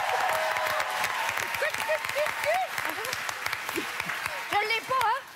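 Television studio audience applauding a guest's introduction, a sustained bed of clapping with voices talking and exclaiming over it.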